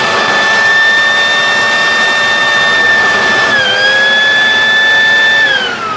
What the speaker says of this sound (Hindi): अब ये अपना जो ब्लोअर था वो वैक्यूम के अंदर परिवर्तित हो चुका है।